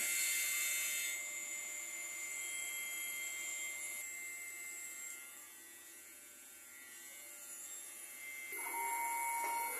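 A DTF printer's cutting operation runs, a high thin whine with a steady mechanical drone that shifts pitch as the cutter moves, dipping quieter midway before rising again, no talking.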